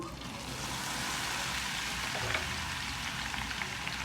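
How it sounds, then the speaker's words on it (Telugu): Steady crackling sizzle of tempering spices frying in hot oil for mango pickle, continuous and close, with no talking. "ముందు తాలింపు వేసి తర్వాత పచ్చడి కలుపుతున్నాను"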